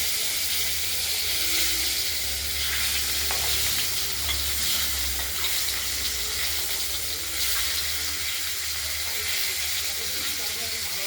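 Pieces of cut katla fish frying and being stirred in hot oil, a steady close sizzle and hiss with scraping stir sounds running throughout, loud and continuous with no talking.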